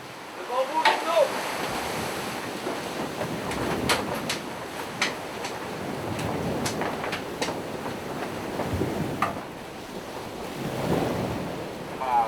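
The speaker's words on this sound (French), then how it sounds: "Il y a plus de 30 nœuds de vent et la mer est assez démontée" Strong wind of over 30 knots roars over a rough, churning tropical sea, waves crashing repeatedly with sharp slaps and splashes throughout.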